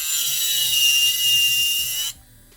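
A black and gold Melodysusie Jade S nail e-file runs with a close, steady high-pitched whine that cuts off abruptly near the end.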